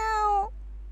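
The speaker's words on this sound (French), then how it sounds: "Miaou! Miaule Minute." Minoutte, a little cat, gives a single clear meow that holds steady and then drops off, close and fairly loud, followed by quiet room tone.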